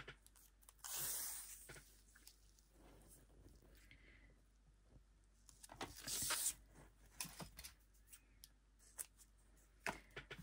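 Scissors cutting strips, with several separate sharp snipping bursts spread out among quiet handling sounds, close and soft with no talking.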